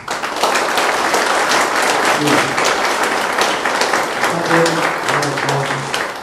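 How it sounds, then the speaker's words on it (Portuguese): A church congregation at a Mass claps steadily and loudly throughout, with a few voices calling out beneath the applause. "Então agora vocês vão dar uma salva de palmas a quem reza por vocês."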